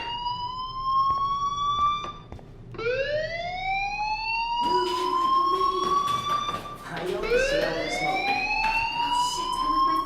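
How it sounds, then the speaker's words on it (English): A fire alarm in the video game Life is Strange wails with a rising, siren-like sweep that repeats several times, loud and continuous, while a voice talks underneath. "Hey, do you hear that fire alarm?"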